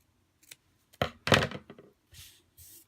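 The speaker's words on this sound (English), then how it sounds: "So we're just going to trim those three down." Scissors trimming stained glass adhesive pieces, giving a few short, close snips and cuts with soft handling noises between them, no talking.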